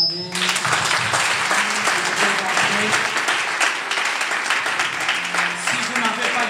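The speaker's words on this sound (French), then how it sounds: "Est-ce qu'on peut les acclamer?" A church congregation gives sustained, steady applause at a revival service, with dense clapping continuing throughout and some voices mixed in underneath.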